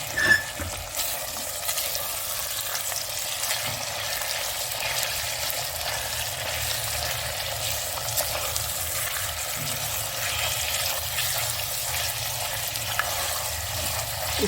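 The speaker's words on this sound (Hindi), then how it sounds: "इसको मैं अब फ्राई करती हूँ तेज़ आंच पर" Half a kilo of boneless chicken frying on high heat in a pan, a steady close sizzle and crackle with occasional stirring, continuous throughout with no talking.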